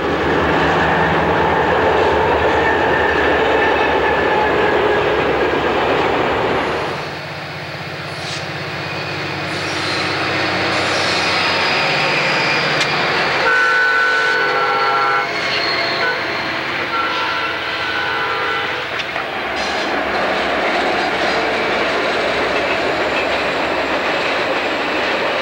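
Norfolk Southern freight locomotives pass in the mid-1980s, still in mixed paint schemes, near Marlow east of Mount Vernon, with a loud, sustained rumble and steady wheel clatter that shifts in tone as the cars roll by, no voices.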